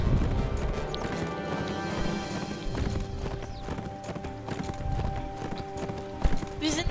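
Horse hooves clip-clop in steady rhythm in the video game Abenteuer auf dem Reiterhof 5, mid-loud and continuous over layered background game music.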